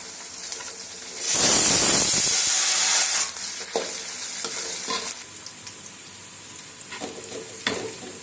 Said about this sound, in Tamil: இது கூடவே ரெண்டு கொத்து கருவேப்பிலை போட்டுக்கலாம் போட்டு நல்லா வதக்கி விட்டுக்கலாம்